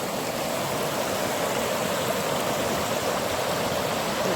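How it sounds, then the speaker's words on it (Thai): A strong, fast-flowing, clear and cold stream rushing past nearby, making a loud, steady broadband roar of moving water that continues unbroken with no voices. "น้ำไหลแรงด้วยต้องห้ามลงเล่น น้ำเย็นเจี๊ยบเลยน้ำใสใสด้วย"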